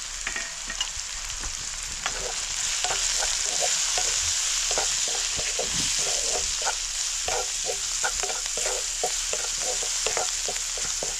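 A spice masala of turmeric, garam masala, coriander powder and black chili powder sautéing in a pan; a steady close sizzle runs throughout with frequent sharp clicks and scrapes from stirring, no voices.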